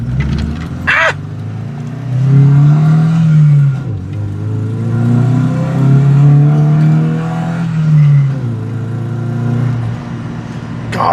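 A 1988 Volvo 240 accelerating hard, its engine note rising and falling through gear changes, loud and close as if heard from inside the car, with a brief sharp sound near the start.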